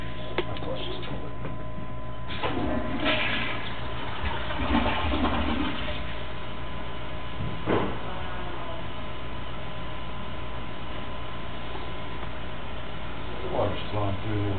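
A toilet flush heard from inside plastic drain piping that changes to terracotta, with water rushing and gurgling through the pipe over a steady hum; a voice talks intermittently.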